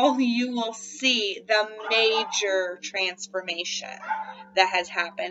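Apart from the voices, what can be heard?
dogs barking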